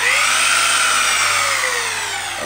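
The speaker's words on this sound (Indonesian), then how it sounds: "Kalau ini untuk yang pemutar emang pakai bor gitu loh." A power drill spinning a cooling-fan dynamo whines at high speed, loud and steady, then starts winding down at the end.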